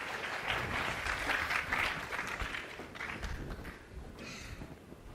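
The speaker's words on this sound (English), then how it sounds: "please give a round of applause to welcome David and Connor" Applause from a conference audience welcoming presenters at a Microsoft WinHEC Taipei 2017 session, moderate, scattered clapping that gradually fades.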